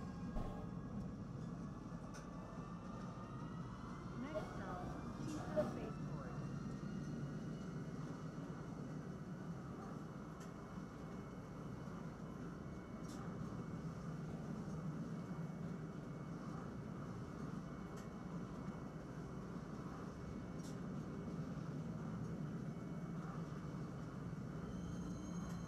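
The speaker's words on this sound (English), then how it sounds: "And this train's going to take us to the spaceport where we can get our ship." Steady low rumble of a train ride in Star Citizen heading to the spaceport, a continuous droning hum with faint rising whine early on and a few soft clicks, no talking.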